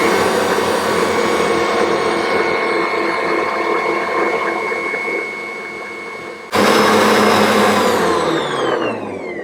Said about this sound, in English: I'm just going to add them slowly with the mixer running the whole time